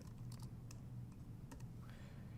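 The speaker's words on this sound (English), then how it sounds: "then you can type away" Quiet typing on a computer keyboard, a few scattered light key clicks in an irregular rhythm over a low steady hum, faint and close.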